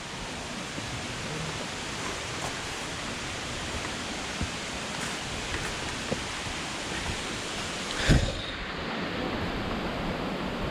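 Marmala Waterfalls in a forest pours as a steady broadband roar, constant and enveloping, with a brief louder knock or rustle near the end and no talk.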